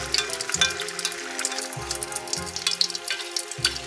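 Dough fries in hot oil in a Chinese restaurant kitchen, a crackling sizzle broken by repeated dull clunks of metal cookware, close and fairly loud.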